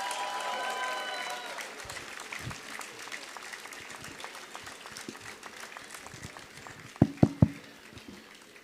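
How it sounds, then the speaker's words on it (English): Parents clap and cheer at a school Grandparents Day event for senior and junior kindergarten, a broad wash of applause that fades toward the end, with a few sharp claps standing out near the close. "Come on, parents, clap your hands and cheer loudly."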